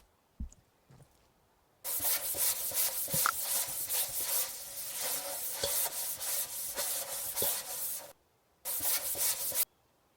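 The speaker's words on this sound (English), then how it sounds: "Now, where's that sander thing?" Sanding tool scrubbing a car body in a car repair game: steady abrasive rubbing in long bursts with brief pauses, loud and close, no talk.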